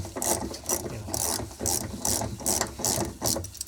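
Repeated ratchet clicking as a T30 Torx bolt is worked loose on a 2010 Cadillac CTS during rear shock replacement, close and fairly loud, in quick bursts of pawl clicks with short pauses between them and no talk.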